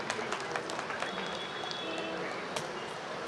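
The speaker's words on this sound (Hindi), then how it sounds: "जोरदार तालियों की गड़गड़ाहट हो जाए दोस्तों" An audience at a free medical camp gathering applauds a guest, producing a steady, dense patter of many hands clapping at moderate volume throughout.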